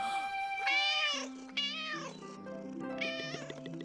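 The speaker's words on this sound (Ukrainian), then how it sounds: "Це кіт." A cat meows several times in drawn-out, wavering cries, close and clear, over soft background tones.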